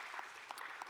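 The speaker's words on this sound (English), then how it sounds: "say hello and give them a clap" A short burst of applause from a panel audience, greeting the founder and CEO of Trustonic at a tech conference; steady clapping, fairly quiet and distant, with a few sharper claps standing out.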